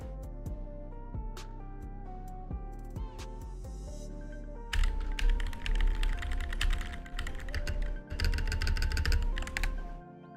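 Newly lubricated mechanical keyboard being typed on: steady clusters of close, crisp keystrokes with bursts of rapid clacking, heard over background music.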